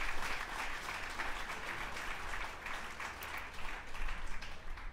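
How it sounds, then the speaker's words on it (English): Audience at a convocation lecture gives a sustained round of applause, a dense, even patter of many hands clapping for five seconds, moderately distant and with no talk over it. "please give a round of applause again to our wonderful presenter"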